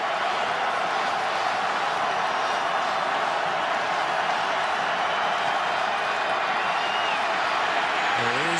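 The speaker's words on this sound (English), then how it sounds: "You can hear the crowd getting loud." College football stadium crowd at Western Kentucky versus Marshall, a dense, steady roar of many voices swelling loud and continuous throughout.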